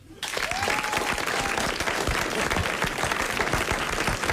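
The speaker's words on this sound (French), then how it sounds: "Je vous remercie pour les applaudissements" Studio audience applause on a French radio-TV panel show, a dense, steady wash of many clapping hands that starts abruptly and holds at full strength for about four seconds, with no talk over it.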